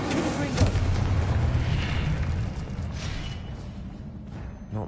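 A Confringo spell explosion in the video game Hogwarts Legacy, a deep rumbling boom that swells early and then fades into a low roar over a couple of seconds.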